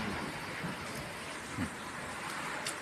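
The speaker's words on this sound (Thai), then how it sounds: "ฝนตกคึ้มๆ" Rain falling steadily, a soft continuous patter and hiss with a few slightly louder drops.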